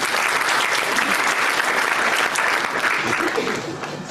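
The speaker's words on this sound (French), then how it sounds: "Applaudissez très très fort." Steady, loud audience applause that holds at full strength throughout and eases slightly near the end, with a few faint voices blended into the crowd.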